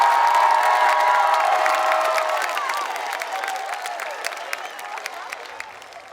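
Sustained applause and cheering fill a high school graduation ceremony for the class of 2022, then taper off steadily over a few seconds as the clapping thins out.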